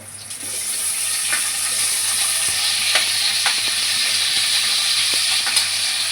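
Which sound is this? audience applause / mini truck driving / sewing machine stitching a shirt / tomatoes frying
tomatoes frying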